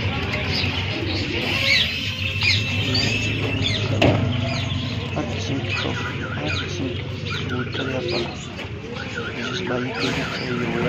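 Pigeons and other birds coo and chirp at a busy Sunday bird market in Quetta, a dense mix of calls under steady talking from people nearby.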